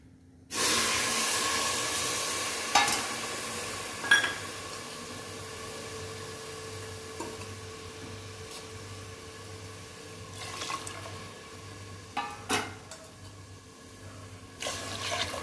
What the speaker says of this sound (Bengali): এবারে জল দিয়ে দেবো। পরিমাণ মতন জল দিতে হবে।